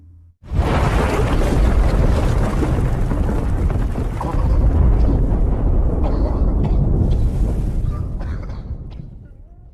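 A landmine in a war film goes off with a sudden heavy blast that becomes a long rumbling roar of debris and wind, holding loud for several seconds before slowly fading.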